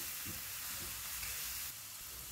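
Garlic prawn noodles being stirred and tossed in a hot pan, a steady close sizzle with scraping strokes of the utensil, no voices.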